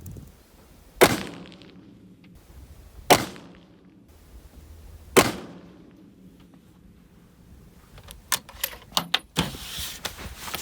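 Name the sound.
hunting rifle shot at the range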